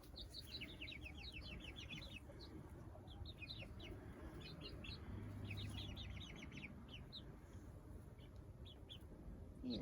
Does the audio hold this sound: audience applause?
no